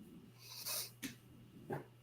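Dogs in a quiet room make a few soft snorts and breathy sniffs, faint and a little distant, with short gaps between the bursts.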